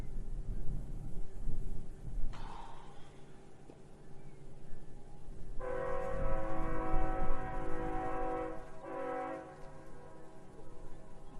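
A train with three locomotives and two cars passes slowly, giving a sustained horn blast with steady tones over a low rumble of rolling wheels, loud and fairly close, with a brief faint tone earlier.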